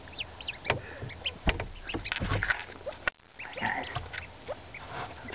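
Call ducklings give soft, scattered peeps and quacks near the mic, with a brief voice speaking over them and background movement noise.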